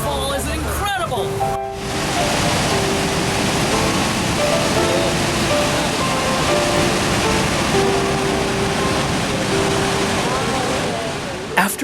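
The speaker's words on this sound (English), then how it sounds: "This waterfall is incredible." Niagara Falls roars as a broad, steady wash of water heard from aboard the Hornblower boat, with a faint engine hum beneath and a brief clatter at the start.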